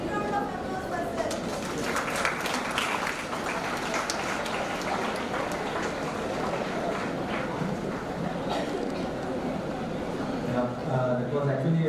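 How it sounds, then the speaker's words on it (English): Symposium audience applause, a dense, even patter of many hands clapping that holds steady for the whole stretch, with a voice speaking over it. "Give a big round of applause for sir."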